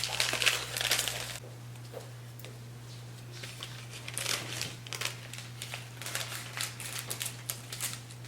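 Crinkly plastic wrapper of a nori package crackling and rustling close by, with an initial burst of crumpling followed by intermittent crinkles and snips of scissors.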